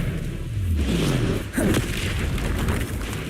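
A Confringo spell blast goes off in the video game Hogwarts Legacy, a deep booming burst with a whooshing rush and rumbling tail, loud and close, followed by a sustained low roar.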